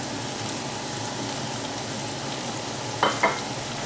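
Bacon sizzles in a pan for a warm bacon dressing, a steady close hiss that continues alone, broken near the end by a couple of brief clinks.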